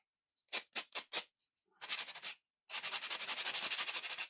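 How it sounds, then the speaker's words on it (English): Wooden pumpkin shapes being sanded by hand: a few short, separate scrapes come first, then a slower stretch, then a long run of quick, rhythmic rubbing strokes, all close and alone. "Once I get these sanded"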